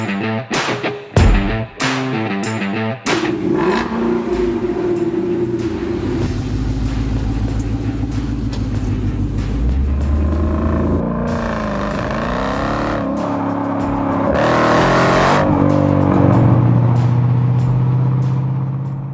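A Ford Mustang fitted with a GT4 performance exhaust starts with a few sharp bursts, then settles into a loud, close, rumbling idle. The engine revs up partway through and again near the end.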